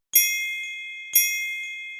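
A bell rings twice from a sharp pull, two bright metallic dings about a second apart, each struck cleanly and left ringing in a quiet room.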